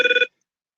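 A phone notification rings out in a quick trilling electronic burst, loud and close, lasting about a quarter second before cutting to silence.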